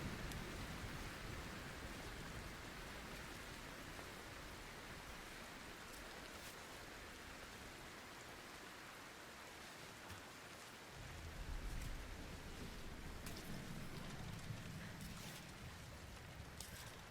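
Rain in the climbing game Cairn, a faint, steady hiss of falling drops that swells slightly in the second half, with no voices over it.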